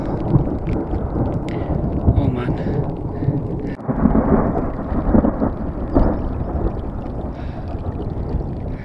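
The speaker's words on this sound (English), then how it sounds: "We can hear clouds cracking." Thunder rumbling over mountains on a hike among high-altitude lakes in Lahaul, a deep continuous roll that swells and fades, heard close and loud with no voices over it.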